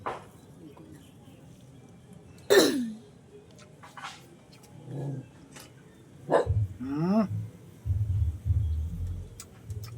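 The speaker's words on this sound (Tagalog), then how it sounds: "Nagalit yung isa naming aso guys." A dog lets out a few sharp, irritated barks and growly yelps between quieter stretches, with a voice murmuring faintly in the background.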